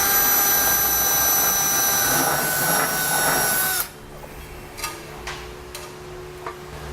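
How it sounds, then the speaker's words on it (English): A power drill fitted with a grinding wheel whines steadily with a bright, high-pitched grinding tone for several seconds while grinding metal on a trailer hitch, then cuts off, leaving faint clicks and scrapes. "we're going to take a grinding wheel and drill. We're just going to grind out one side of it"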